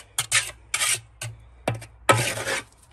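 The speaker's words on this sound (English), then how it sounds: "So we scrape the sides" A tool scrapes the sides of a lime putty mortar mix in four rough, gritty strokes of about half a second each, close and fairly loud, with short quiet gaps between them.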